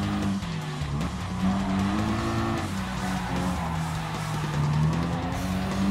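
Race car in Gran Turismo Sport accelerating hard out of a corner, a loud, steady engine drone with shifting pitch and faint tire squeal throughout.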